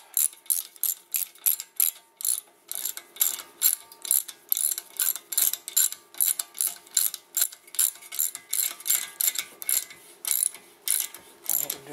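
A ratchet tightens brake assembly bolts on a Honda with captive rotors, clicking in quick, even bursts of pawl ticks that repeat steadily and loudly up close.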